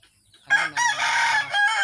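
A rooster at a rooster farm crows loudly and close by in one long drawn-out call, with faint clucking before it.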